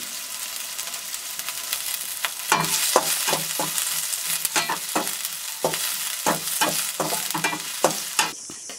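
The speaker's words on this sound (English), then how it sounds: "Now let's add the onions and the chilies." Onions and chilies frying in hot mustard oil for a Bodo fish curry with ridge gourd, a steady close sizzle broken by repeated scraping stirs of a utensil against the pan.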